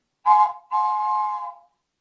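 A toy train whistle used as a music-therapy instrument gives two close, bright hooting blasts, a short one followed by a longer sustained one, imitating a train.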